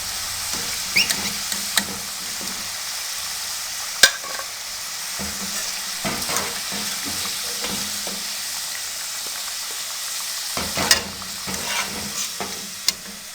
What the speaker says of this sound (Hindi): अब इसी तरीके से दूसरे आलूओं को फ्राई कर लेंगे।